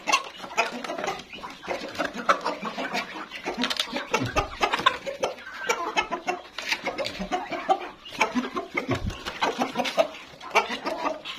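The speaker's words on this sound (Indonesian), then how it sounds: "sini ayamnya jago saya lepas biar sekalian ikut makan" Free-range chickens mill about an outdoor pen on a small poultry farm, clucking continuously and busily at close range with many overlapping calls, no talk over them.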